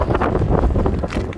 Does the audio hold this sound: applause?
no